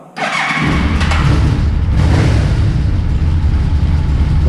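A Yamaha Vmax 1200 motorcycle on manual choke cranks and fires up, then settles into a loud, steady, deep-throated idle heard close, without speech.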